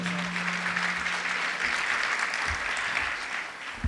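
A gala audience in the Balaji Temple Auditorium applauds volunteers at the Health Camp New Jersey silver jubilee. The clapping is steady and full, with a faint low hum at first, and it tapers slightly near the end.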